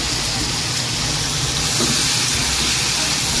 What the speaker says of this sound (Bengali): এখন নাড়িয়ে নেব